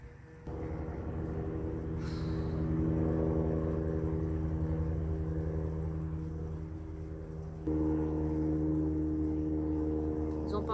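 A steady droning engine hum with harmonic tones continues throughout, like a helicopter heard from a distance, with a brief shift in pitch partway through.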